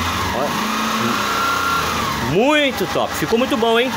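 A Honda Titan motorcycle engine idles, then revs up and down in a few rising and falling surges, loud and close, while someone talks over it.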